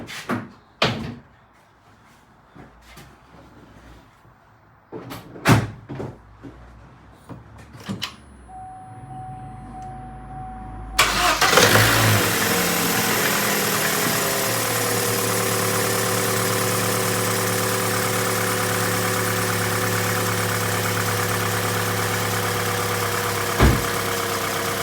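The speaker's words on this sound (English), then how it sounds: "I'll fill that up and then I'll fire the car up" A Vauxhall Astra J's engine cranks and catches after some door and cupboard clunks, then settles into a steady, loud mid-pitched idle that runs on continuously.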